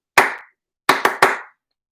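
Four sharp hand claps in a rhythm exercise: a single clap, a pause, then three quick claps in a row, loud and close with no talking.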